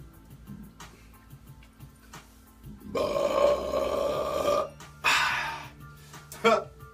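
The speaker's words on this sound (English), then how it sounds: "Everybody burps." A person lets out loud, drawn-out burps, two long rumbling belches and a shorter one near the end, close to the microphone during a cannabis dab show.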